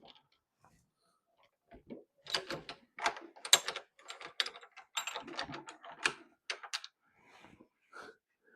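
Metal flaring tool on a fuel line being loosened, a series of close, sharp metallic clicks and ratcheting ticks in irregular bursts, clustered in the middle and tapering off, with no talk.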